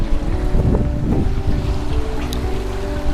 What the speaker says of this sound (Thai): ลมจะแรงหน่อยหนาวนิดๆ